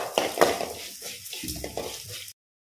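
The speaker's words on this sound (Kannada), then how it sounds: "ಈಗ ಕಲೇ ಸ್ಪೂನ್ ಜೀರಿಗೆ ಸಾಕು ಇದು ಕೂಡ ಫ್ರೈ ಆಗಲಿ" Coriander seeds and a spoonful of cumin fry in a hot pan for mutton gravy, a dry crackling sizzle with a couple of sharp stirring scrapes early on, close and moderately loud before cutting to silence.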